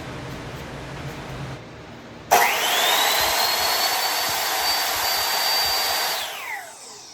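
A Ryobi 10-inch sliding compound miter saw with LED work light switches on abruptly after a quiet moment, its motor roaring loud and steady with a high whine for about four seconds before spinning down.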